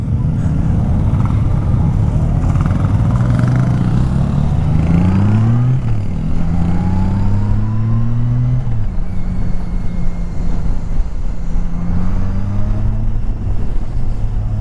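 A 2017 Honda Goldwing F6B motorcycle engine hums steadily while riding, its pitch rising and falling through gear changes, with wind noise throughout.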